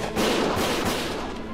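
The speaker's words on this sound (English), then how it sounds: "Gunfire! Uh-oh! Gunshots! Everyone, keep your heads down!" Gunfire in Valkyria Chronicles, a loud booming burst of shots with a rumbling, explosive quality, heard close and dense for about a second and a half.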